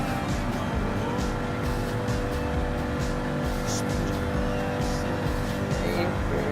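Chevrolet Corvette C2 Stingray in a custom race in Gran Turismo Sport, its engine droning steadily through the whole stretch with faint tire squeal now and then, loud and constant, no pauses.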